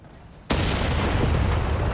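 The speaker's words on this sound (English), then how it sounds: "Ooh, 6-pounder gun almost got it." A 6-pounder anti-tank gun fires in the Company of Heroes 3 video game, one abrupt loud boom breaking in from a quiet background and followed by a sustained, rumbling roar, with no talking.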